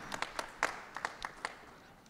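A few scattered, sparse claps from an audience greeting students at a community justice forum, brief and uneven.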